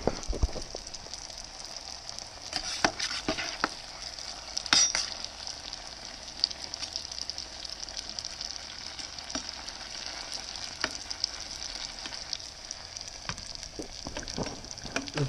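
Sopapilla dough fries in hot oil with a steady bubbling sizzle and occasional pops and crackles, heard close and continuous with no talking.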